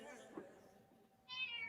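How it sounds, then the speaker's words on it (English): A cat lets out a short meow, followed by a higher, brighter cry near the end, both fairly faint in a quiet background with no clear talk over them. "God, I hate that cat."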